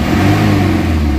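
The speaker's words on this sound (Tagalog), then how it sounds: "kita nyo yung galit ng makina," An Isuzu Crosswind engine with weak pull and engine vibration revs loudly and close, a steady deep rumbling drone held at raised RPM.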